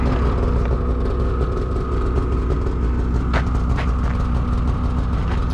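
A Polaris Matryx Assault 146 Patriot 850 snowmobile, a new 2021 model, runs with a steady low engine rumble close by, holding an even idle throughout with a brief sharper noise midway and no talk.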